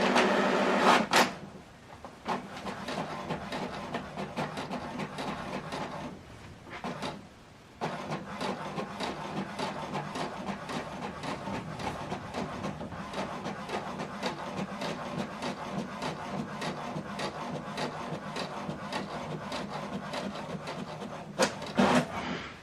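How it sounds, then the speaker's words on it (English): An HP Deskjet 2820e all-in-one printer working through a double-sided print job, its feed and print mechanism whirring and clicking steadily at low level for over twenty seconds with brief pauses between passes. "This is the document we printed out, double-sided, from laptop to HP Deskjet printer."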